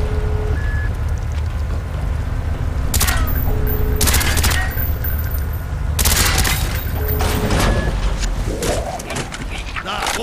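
Bursts of gunfire are aimed at door hinges in the Call of Duty Black Ops Crash Site mission. The loud repeated volleys hit hard, with booms, beeping and a steady rumble of noise underneath.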